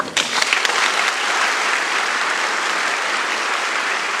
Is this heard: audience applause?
yes